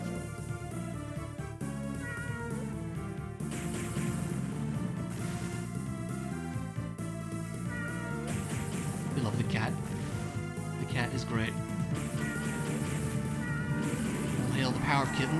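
Cat meows sound in Castlevania: Portrait of Ruin, several short, high mews repeating over steady game music while a person talks.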